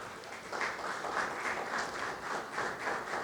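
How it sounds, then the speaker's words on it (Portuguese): Church congregation clapping steadily together in praise, a dense, even wash of many hands at moderate level with a faint rhythmic pulse, no voices over it. "Aplauda o Senhor Jesus."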